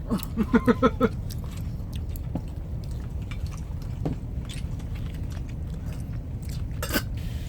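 Close, wet chewing of grilled pork belly at a seaside campsite, soft rhythmic mouth sounds and small crunches continuing steadily, with a few brief clicks and light clatter around the meal.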